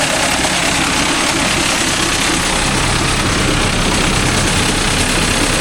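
A Mahindra Arjun Novo 605 DI tractor fitted with a crop cutter, its engine run around 1000 RPM, roaring loud and close as a continuous, dense drone with no talk over it.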